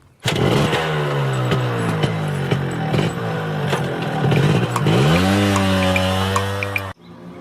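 A car engine drones steadily while driving, rising in pitch through a gear shift and then settling, loud and close until it cuts off abruptly.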